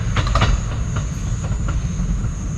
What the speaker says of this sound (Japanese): 電車の音が遠くなっていく